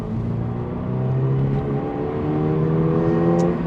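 A Toyota GR86 with a naturally aspirated four-cylinder engine revs steadily, giving a loud, sustained, rising drone close to the listener with no talking.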